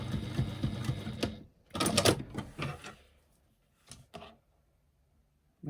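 A sewing machine stitches a 1/4 inch seam while boxing the corners of a fabric bag. Short close bursts of rapid mechanical whirring are broken by quiet pauses, and the last bursts are brief.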